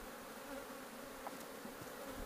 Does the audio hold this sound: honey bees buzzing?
yes